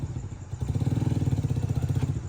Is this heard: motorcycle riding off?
yes